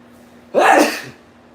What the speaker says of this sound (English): I feel another sneeze coming.